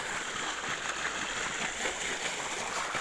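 Irrigation water flows steadily into a sugarcane field with a constant, close rushing and gurgling wash. It stays even throughout with no talking.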